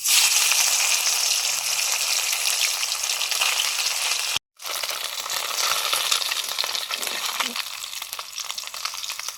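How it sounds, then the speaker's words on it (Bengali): Amudi fish fry in mustard oil, producing a loud, steady hiss of sizzling close by, briefly cut off midway before resuming at full strength. "সর্ষের তেল দিলাম এবারে আমুদি মাছগুলো ভেজে নেব"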